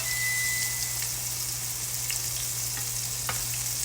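Hamburger steak patties sizzle and fry in a pan, a steady close crackling hiss with a few sharper pops throughout and a low hum underneath.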